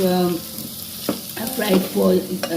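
Masala frying in a pan for Bengali aloor dum, crackling and sizzling up close with bursts of stirring and scraping, fairly loud and uneven, with no voices.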